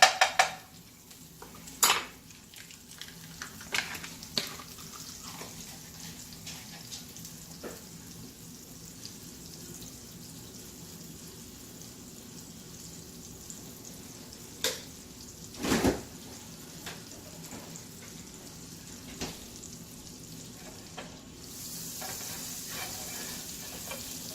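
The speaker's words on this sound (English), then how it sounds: "I am going to take a tablespoon of butter. I'm going to go ahead and let that melt." A tablespoon of butter melts in a preheated skillet, giving a quiet, soft sizzle broken by a few clanks of pan and utensil, with the frying hiss growing a little stronger toward the end.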